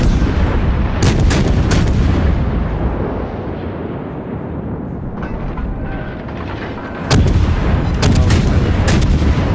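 Illumination rounds and heavy naval guns fire in a World of Warships naval battle, a dense roaring barrage with sharp blasts near the start and a fresh burst of loud booms toward the end.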